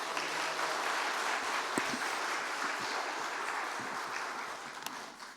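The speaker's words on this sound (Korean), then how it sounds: "우리 뜨겁게 한번 박수하시겠습니다" Church congregation applauding warmly at a youth department dedication service, a steady dense wash of many hands clapping that holds evenly for several seconds in a reverberant hall, with no speech over it.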